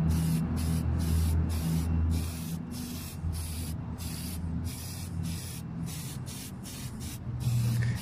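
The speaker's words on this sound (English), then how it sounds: "shoot a little bit of paint for rust prevention" Aerosol paint hisses onto an 05 Expedition chassis for rust prevention, a close, loud spray broken into a run of short rhythmic bursts with brief gaps, then a steadier stretch.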